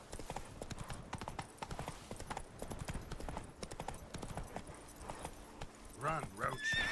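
Roach the horse galloping in The Witcher 3, steady rapid hoofbeats running throughout with a whinny near the end, set under game music and a talking voice.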